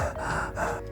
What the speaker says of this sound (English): The stress hits and panting begins.